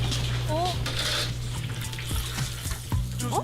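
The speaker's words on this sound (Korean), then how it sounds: "습식 빵가루까지 묻힌 돈가스는 튀기기만 하면 끝." Breaded pork cutlets (tonkatsu) in wet panko deep-fry in hot oil in a restaurant kitchen, giving a steady, dense sizzle and bubbling hiss throughout, with voices talking over it.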